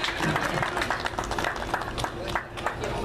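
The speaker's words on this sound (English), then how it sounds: "Give them a big round of applause for participating." Audience applause at the Jackson Ohio Apple Festival, a steady patter of clapping from a crowd running under a loud announcer's voice.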